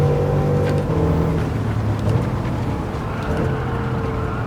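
A 2013 Bugatti Veyron 16.4 roars through a PS5 racing game at La Sarthe Circuit, its loud, steady engine drone holding high revs with slight pitch shifts as it races on.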